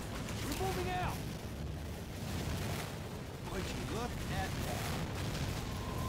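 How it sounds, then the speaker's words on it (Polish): Booming explosions and rumbling blasts from Medal of Honor: Allied Assault as an enemy fort is destroyed, with scattered whistling effects over a dense, noisy background. "Ale wybuchy."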